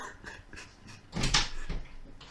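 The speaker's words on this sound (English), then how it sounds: "the dogs are trying to break into the room" Dogs scratch and thump at a closed door to get into a room, with scattered knocks, rattles and a louder burst of banging and scrabbling midway.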